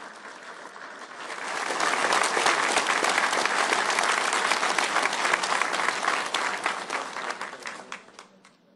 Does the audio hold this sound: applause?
yes